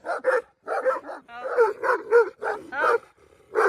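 Several dogs closing in on a camper bark and yip in rapid, irregular bursts, close and loud, with short pauses between volleys.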